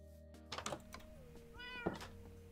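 A cat meows in Minecraft: a short rising-falling meow sits clear over steady game music and background hum, with a few soft clicks just before it.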